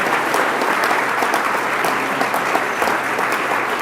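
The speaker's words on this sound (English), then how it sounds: "Now, as you're clapping," Large audience applauding at an association award ceremony, a loud, dense and sustained roar of clapping that stays even from start to finish.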